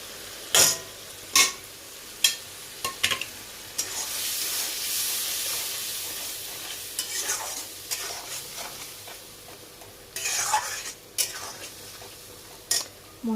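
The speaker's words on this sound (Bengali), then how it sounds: "সব মশলাগুলো দিয়ে ভালো করে কষাবো।" Ground spices with turmeric, chilli powder and salt being stirred and fried in a pan, with a series of scraping spatula strokes over a steady low sizzle, some strokes sharper and louder than others.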